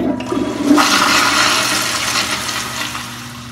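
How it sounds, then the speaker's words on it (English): An ordinary household toilet gives a normal flush: a sudden loud whoosh of water that swirls strongly, then slowly fades as the bowl drains, heard up close with no talking. "I want to show you a normal flush of this toilet"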